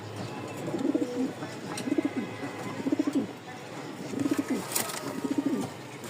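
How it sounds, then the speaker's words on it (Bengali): A pair of sky-blue Rajgolla, or floor-type, pigeons, a male and a female, coo close by in repeated rhythmic bursts, about five throaty rolls spaced roughly a second apart, over light background noise. "আরও এক জোড়া আকাশি কালার রাজগোল্লা বা ফ্লোর টাইপের এক জোড়া কবুতর দেখাই"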